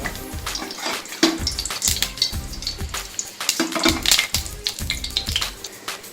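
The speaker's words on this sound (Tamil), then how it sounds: "இப்போ கடுகு நல்லா பொரிஞ்சதுக்கப்புறம்" Mustard seeds spluttering in hot oil in a pan for a Tamil egg masala curry, a dense run of sharp pops and crackles over a steady sizzle, close and fairly loud, with no talking.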